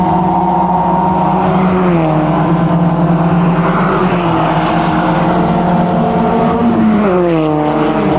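Race cars run on track during an endurance race at Clark Speedway, a loud continuous engine drone heard from on board, with pitch sweeping up and down through gear changes and throttle lifts, no talk.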